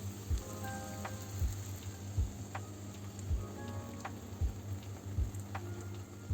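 Eggs fry gently in butter with spinach and onion, a low steady sizzle with soft regular ticking pops repeating roughly every second.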